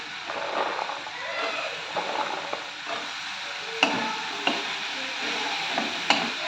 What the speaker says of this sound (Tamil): அடுப்பை சிம்மை வச்சு நல்லா வதக்கிக்கலாம்